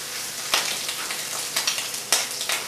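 Scrambled eggs with pepper jack cheese stirred in a hot pan, a steady close sizzle punctuated by a few sharper scraping stir strokes.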